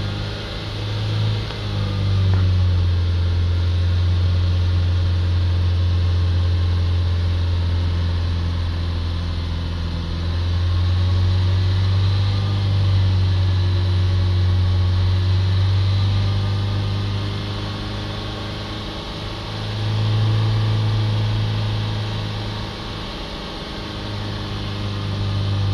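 Car engine held at roughly 3000 RPM during a workshop fault diagnosis, a steady close mechanical drone with a low hum that swells and eases a few times, no talking.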